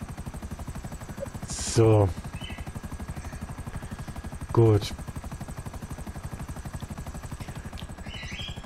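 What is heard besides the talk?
helicopter in the video game GTA V Online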